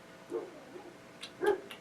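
Dogs bark and yip in a few short, scattered bursts at moderate distance, one louder bark near the end, with quiet background between the calls and no talk over them.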